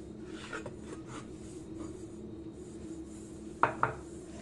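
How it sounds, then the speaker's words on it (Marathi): A new iron kadhai is wiped with a cotton cloth, making faint, soft rubbing strokes close by, then two quick metallic clinks near the end. "पुसून घ्यायची पूर्ण कपड्याने, कॉटनच्या कपड्याने अशी पुसून घ्यायची आहे"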